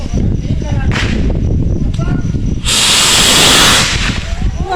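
Bang fai rockets launch at a Thai Buddhist end-of-Lent festival: a loud roaring, hissing whoosh surges for about a second amid constant crowd noise and talk, with sharper bursts before it.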